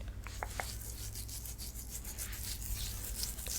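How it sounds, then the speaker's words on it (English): An exfoliating scrub is rubbed over skin in a shower, giving a steady soft scratchy rasping that continues without pause, close and quiet over a low background hum. "And I just scrub and then I turn it back on and rinse."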